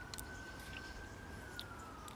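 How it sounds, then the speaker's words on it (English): An ambulance siren passes outside, far off and faint, a thin steady wail that slowly drifts down in pitch beneath a low background hiss. "going by the siren, I think that's an ambulance"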